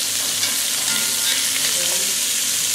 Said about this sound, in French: maintenant on va caraméliser la viande sur toutes les faces dans une cocotte très chaude